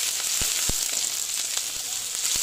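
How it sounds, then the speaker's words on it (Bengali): Onions fry in a pan with a steady, bright sizzle, broken by a few soft knocks and stirs, close by and with no talking. "এখন আমি পেঁয়াজ দিয়ে দিচ্ছি। পেঁয়াজটা দিয়ে একটু পেঁয়াজটা আগে আমি ভেজে নিচ্ছি।"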